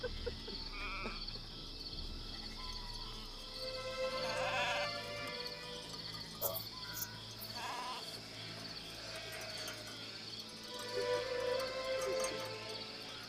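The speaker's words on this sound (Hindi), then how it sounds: "भेड़े हैं ये, बकरी नहीं है।" Sheep bleat repeatedly in an outdoor pastoral setting, several calls scattered across the stretch at moderate distance over a steady background hum, with no talking.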